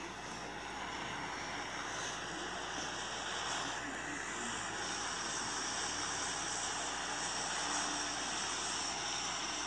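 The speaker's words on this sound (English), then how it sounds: "Ready to hear the plane going." Airplane engine in the PUBG battle royale video game, a loud continuous roaring drone that holds steady throughout with no breaks, heard close and alone.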